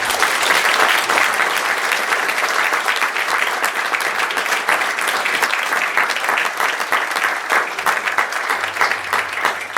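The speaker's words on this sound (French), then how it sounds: "Je vous demande de les applaudir encore une fois" Sustained audience applause for junior orchestra musicians at a concert hall in Vittel, dense and steady from start to finish, with no talk over it.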